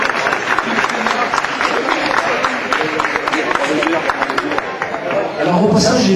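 A crowd claps for a 15-year-old rider at a mountain bike race in Cousolre, a dense, steady wash of applause and cheering throughout, with a loudspeaker voice running over it.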